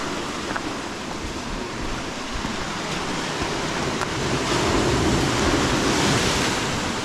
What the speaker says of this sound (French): On va attendre que les vagues passent.